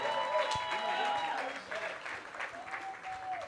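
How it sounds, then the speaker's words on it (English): An audience at a community business workshop in Olievenhoutbosch gives a round of applause, a dense steady wash of clapping mixed with some voices and cheering, fairly close and sustained throughout. "One more time, a round of applause."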